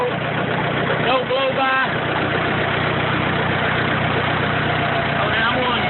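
Stump grinder engine running at a steady idle, a continuous low rumble and vibration close by, with someone speaking briefly over it.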